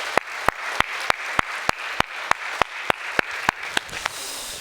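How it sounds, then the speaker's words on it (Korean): A church congregation claps in unison at a steady, brisk beat, about three crisp claps per second. The claps are close and even, and the clapping fades out at the end. "하나님께 영광의 박수 올려드립시다"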